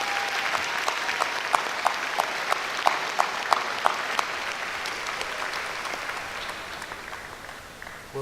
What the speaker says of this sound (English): So a round of applause, please, for all the student support that we've had tonight.